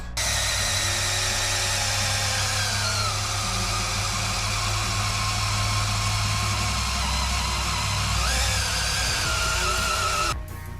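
A power drill bores a hole through the metal of a Toyota Tacoma rock crawler, whining loudly and steadily for about ten seconds over a low rumble, with a brief change in pitch near the end and no talk.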